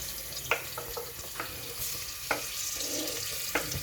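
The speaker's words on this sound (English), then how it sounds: "So I'm going to put my onions and my tomatoes directly to the fire." Onions and tomatoes frying directly over a fire give off a close, steady sizzle broken by a few sharp crackles and pops, with no voices.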